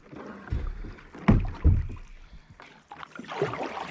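Paddle strokes from a kayak on the Black River in Andrews, South Carolina splash and swish close by in an uneven rhythm, with a soft wash of water between them.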